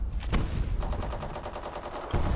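Rapid bursts of gunfire echo faintly from behind the player in the online shooter Black Squad during a deathmatch, a distant, muffled rattle under the game's background noise.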